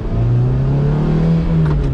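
Engine of a Lotus Exige S2 with its rear-mounted Toyota 1.8-litre four-cylinder, a loud close continuous hum with a slight rise in pitch, heard alone.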